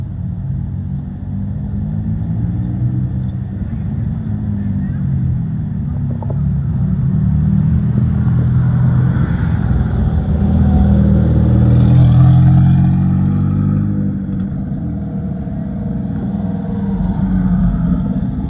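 A Mercedes-AMG GT R sports car rolls up at a Greddy car meet, its deep exhaust rumble swelling as it nears, then easing off, with no talk over it.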